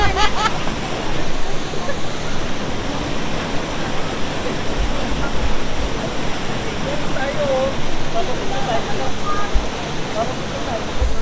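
Sprite Falls, a waterfall at Majayjay in Laguna, pours in a dense, constant roar that stays loud throughout, with voices talking faintly over it.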